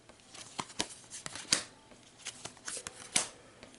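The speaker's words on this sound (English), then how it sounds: "so let me draw 6 cards." Six playing cards drawn one by one from a deck during a Marvel Champions card game, giving a series of sharp close snaps and slides at irregular intervals.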